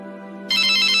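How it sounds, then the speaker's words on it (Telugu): A phone rings with an incoming call, a steady tone followed by a sharp, bright ringtone burst for the second half, loud and close. "పీటర్ కాల్ చేస్తున్నాడు ఎత్తాలా వద్దా"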